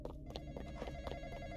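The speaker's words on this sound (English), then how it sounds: "Gonna answer the phone." In the Roblox game The Night Shift, a phone rings with a repeating electronic trill, several quick pulses over a short stretch, loud and close against a low game hum.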